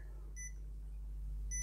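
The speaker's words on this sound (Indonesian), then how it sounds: "juga ada bip ya, suara bip kalau PSU-nya bermasalah" A power-supply tester emits two short electronic beeps spaced about a second apart, faint over a steady low mains hum, with no speech.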